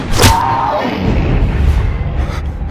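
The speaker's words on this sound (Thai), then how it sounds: "พลันก็มีเสียงปืนดังขึ้น" In a Thai horror audio drama, a single loud gunshot effect cracks out at the start and fades into a long, booming reverberant tail over a low rumble.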